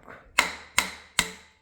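A ceramic hammer strikes a stuck part on a Ford 300 engine three times in an even rhythm, each blow a sharp, bright, close knock that rings briefly before fading.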